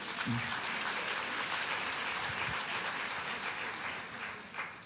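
An audience applauds during a televised interview, a soft, even wash of clapping that stays fairly distant and steady throughout, easing slightly toward the end.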